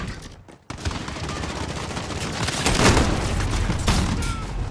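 Sustained automatic gunfire from a video game weapon, a loud, continuous burst of rapid shots that starts abruptly after a brief gap and runs to the end, with bursts swelling louder midway.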